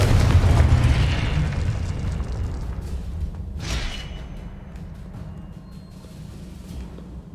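A loud Confringo blasting spell explodes in Hogwarts Legacy: a big boom at the start, a second sharp blast a few seconds later, then a fading rumble.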